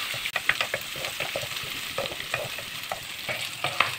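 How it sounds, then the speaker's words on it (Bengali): Onions and green chilies fry in a pan, crackling and sizzling up close while a utensil stirs them in quick, irregular scrapes; no one speaks. "আমি একটু পেঁয়াজ দিয়ে দিলাম।"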